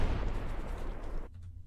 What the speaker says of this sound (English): The explosions are doing it.